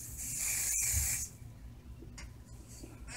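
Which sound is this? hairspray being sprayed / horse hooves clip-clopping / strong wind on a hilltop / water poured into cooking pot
hairspray being sprayed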